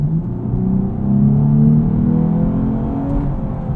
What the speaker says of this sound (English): it just enhances the engine sound from the V6